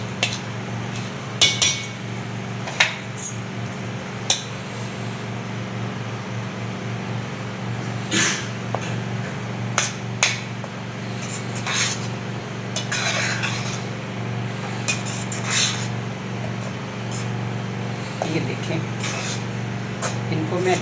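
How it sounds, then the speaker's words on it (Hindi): Onions and spices being stir-fried in a pot for chana biryani, with repeated metal clinks and scrapes of a spoon against the pot over a steady low cooking hum. "अब मैं इनको भूनूंगी।"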